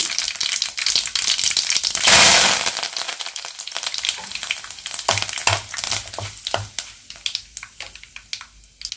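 Dried red chilli and curry leaves frying in hot oil during preparation of broad bean (chikkudukaya) fry, giving a loud crackling burst near the start, then steady close sizzling with scattered sharp pops and a few light utensil clicks.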